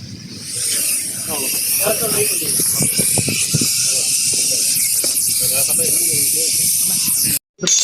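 A fire extinguisher is squeezed and discharged at a fire safety drill, letting out a loud, steady hiss that runs almost unbroken for several seconds with voices under it, then briefly cuts out before resuming.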